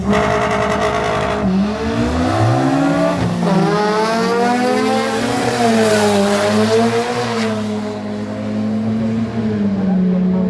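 A Honda drag car launches at the Killarney drag strip, its engine revving hard and loud with rising, falling pitch sweeps as it pulls away, close and continuous.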